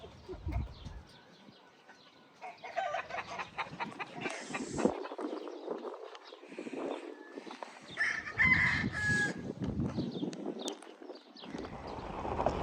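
Chickens cluck and a rooster crows nearby amid farmyard bustle, with a brief clip-clop of hooves, over a faint outdoor background.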